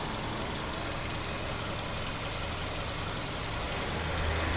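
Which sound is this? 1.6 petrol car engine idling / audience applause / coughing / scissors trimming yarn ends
1.6 petrol car engine idling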